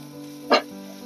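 Black cumin seeds dry-roast in a pan. A single brief sizzling stir rises sharply and fades within a fraction of a second over a steady low background hum.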